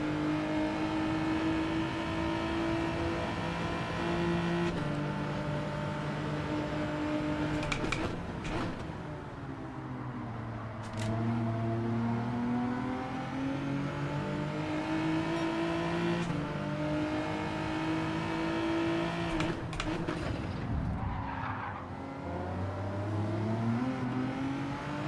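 A Group 3 race car engine in Gran Turismo 7 on Sardegna Road Track, droning loudly and rising and falling in pitch through gear shifts and throttle lifts, close and continuous over about twenty-five seconds.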